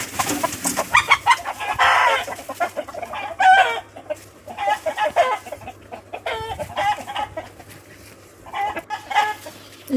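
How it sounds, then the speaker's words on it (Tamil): Chickens clucking and calling around a cart in a village yard at midday, several birds close by with repeated short clucks and occasional louder squawks, steady and busy throughout, with no talk. "இந்த வண்டியை சுற்றி தான் முக்கால்வாசி எல்லா கோழியுமே மதிய நேரம் நிற்கிது"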